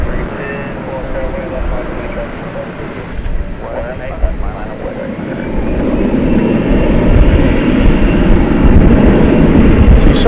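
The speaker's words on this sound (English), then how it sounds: "So you saw that plane taking off" A jet airliner takes off at Dallas/Fort Worth International Airport at night, its deep engine roar steady at first and then swelling louder and fuller over the last few seconds.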